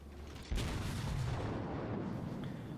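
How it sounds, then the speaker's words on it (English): Kawachi battleship guns firing shells in World of Warships: one deep, booming salvo that rolls into a long sustained rumble, heard at a distance and fairly faint overall. "We're firing some shells and we're landing, we're getting hits."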